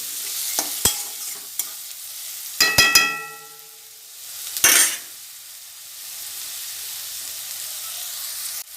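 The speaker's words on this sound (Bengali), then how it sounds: "পেঁয়াজটা নরম হওয়া পর্যন্ত আমি কষিয়ে নেব" Chopped onion sautéing in a pan for a home-style Bengali cauliflower roast: a spoon clanks against the pan several times, then the sizzle and hiss fade to a steady, quieter frying.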